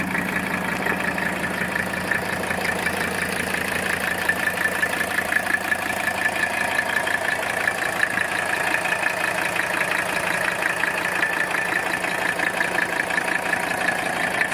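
A 1983 Mercedes-Benz 300TD diesel engine idles steadily and close by, a continuous low rattling clatter with an even rhythm throughout and no voices.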